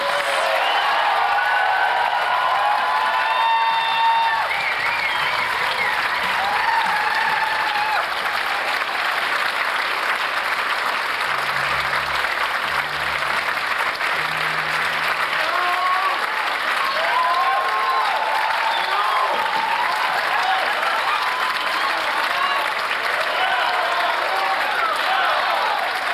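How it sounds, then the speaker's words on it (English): Sustained, dense applause from a large audience at a Middle East music ensemble concert, even and unbroken for a long stretch, with faint cheers mixed in. "One final round of applause, ladies and gentlemen, for our maestro,"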